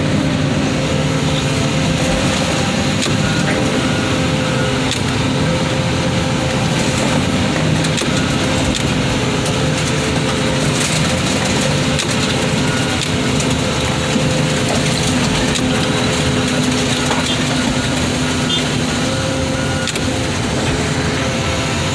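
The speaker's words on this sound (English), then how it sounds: "Crush the car." A car crusher flattens a Ford Mustang outdoors at a scrapyard, a loud, unbroken mechanical grinding and droning that holds steady from start to finish with no talk.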